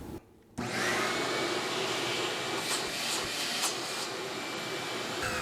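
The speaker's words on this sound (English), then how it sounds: "it definitely seems to have strong suction initially, really no different than my shop vac would have ordinarily" A shop vacuum drawing air through a Kreg dust separator switches on after a brief quieter moment and then roars steadily with a loud rushing hiss, with a few faint rattles of debris passing through.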